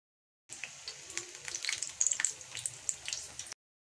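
Flour-coated eggs fry in hot oil, giving a quiet, uneven crackle and spitting with small pops, fairly soft and close, with no other sound.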